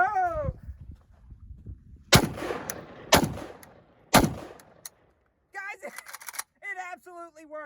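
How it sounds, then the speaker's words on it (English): PSAK-47 GF3 rifle fired into dirt outdoors: three loud, sharp shots spaced about a second apart, each with a ringing tail, with a voice talking before and after the shots. "Now we're gonna shoot it into the dirt."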